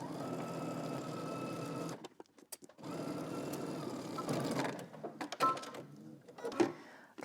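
A domestic sewing machine runs a straight stitch along a skirt seam, whirring steadily for about two seconds, pausing briefly, then running again with short bursts as it backstitches at the seam's end.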